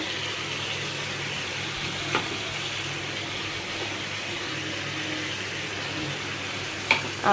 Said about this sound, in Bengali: চিকেন তো ভাজা হয়ে গেছে। এবার দিয়ে দেবো এই যে পেঁয়াজ বাটাটা